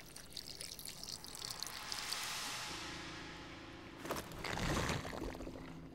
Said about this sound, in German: Ich sollte zuerst etwas Wasser hinzufügen.